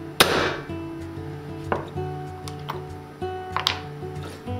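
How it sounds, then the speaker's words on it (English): A sharp hard hammer strike on ceramic tile near the start, followed by several lighter knocks and taps over a low hum, with no talking. "give it a whack with a hammer"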